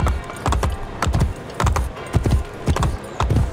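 Horse hooves galloping in the video game Assassin's Creed Brotherhood, a fast, steady rhythm of loud, close clip-clop beats repeating throughout with no voices.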